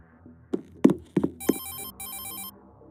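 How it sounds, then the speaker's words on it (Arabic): Several sharp knocks, then an electronic telephone ring trills in two bursts, loud and close, in a Roblox game. "ايه التليفون عمال بيرن؟"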